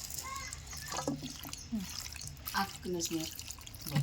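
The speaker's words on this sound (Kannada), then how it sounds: "ಈಗ ನೋಡಿರಿ ನೀರು ಹಾಕೀನಿ ರೀ" Water splashes and trickles into a cooking pan in short bursts, with a person talking quietly over the sound.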